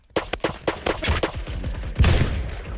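A Saiga-12 semi-automatic shotgun fires in a video game: about eight sharp blasts in quick succession, loud and close, ending in a heavier burst that fades out.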